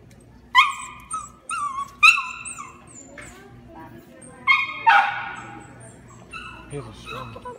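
Several high, yappy puppy barks and whimpers from The Sims video game come in short bursts over a few seconds, mixed with quieter background voices.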